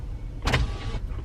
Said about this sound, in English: Roll the windows down a little bit.